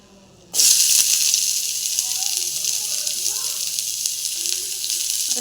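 Onions drop into hot oil with whole garam masala spices and burst into a loud, sudden sizzle that settles into a steady close frying hiss, with faint talk underneath.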